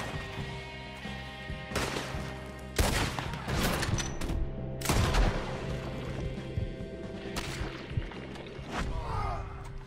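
Gunfire in the video game Red Dead Redemption 2, a dense fusillade of repeated shots and cracks over rumbling game sound with a brief vocal sigh, loud and close throughout.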